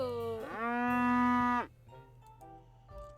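A cow in the farming game Peachleaf Valley gives one loud, drawn-out moo lasting about a second, sliding up in pitch at the start and then cutting off, followed by quieter game sounds.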